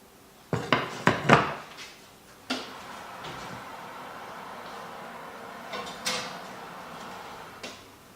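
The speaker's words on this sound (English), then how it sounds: "we'll put the lid on, and we'll put the cloche back in the oven" A heavy cast-iron cloche holding sourdough is lidded and slid back into an oven, with a quick cluster of loud metallic clanks and knocks up close, then a few scattered thuds and a sliding rattle.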